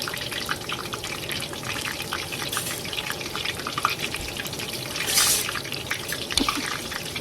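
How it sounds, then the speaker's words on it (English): Hot oil sizzles steadily in a deep fryer while Japanese food cooks, a constant crackling hiss with occasional brief pops and splashes, no voices. "taking stuff out of the deep fryer"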